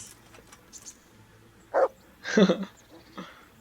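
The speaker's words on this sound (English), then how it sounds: "Yes, yes, we get a dog." Mutt the dog in Kingdom Come: Deliverance lets out a couple of short, close barks, the second louder and longer, followed by a softer yip, with a quiet game background in between.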